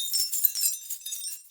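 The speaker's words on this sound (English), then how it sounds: "Glass shards." Small glass shards clinking and tinkling together in a bright, continuous jangle of light, close taps with no other sounds.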